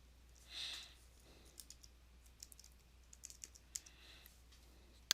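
Soft computer mouse clicks tap out one by one, quiet and close, amid faint room noise during an ArcMap 10.7 GIS tutorial on a computer.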